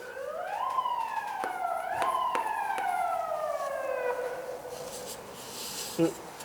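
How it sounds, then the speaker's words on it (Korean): An ambulance siren wails outside, a long sweeping tone that glides slowly downward as it passes at moderate distance, heard faintly through steady room noise. "앰뷸런스네?"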